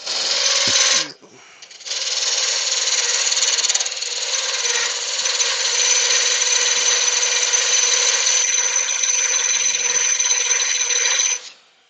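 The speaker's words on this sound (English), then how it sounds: "if I can find a parting tool, just gonna part down a little bit there and we'll get it sanded" A parting tool cuts into spinning wood on a lathe, giving a steady, loud high-pitched scraping whine that runs for about ten seconds after a brief start.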